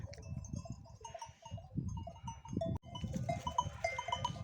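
Several sheep bleat close by in overlapping calls, with faint bells ringing now and then in the background, in a village in spring.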